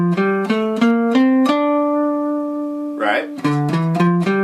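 A D Aeolian natural minor scale played on a melodic instrument, single sustained notes stepping upward then back down in an even rhythm, close and clear, with a brief burst of other sound midway and no talk.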